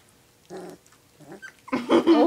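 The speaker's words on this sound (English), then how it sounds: "Oh, are you growling?" A three-week-old Boerboel puppy gives short, low growls close by, followed by louder, rougher growling and whining sounds.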